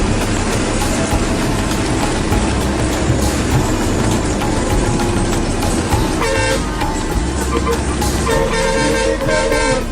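Busy road traffic in Sri Lanka with cars and trucks rumbling past as horns honk repeatedly, several blaring at once.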